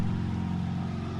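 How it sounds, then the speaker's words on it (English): A motorbike engine drones steadily in the background, a constant mid-pitched hum with no clear rise or fall, moderately loud and alone. "I apologize if you can hear the motorbike in the background"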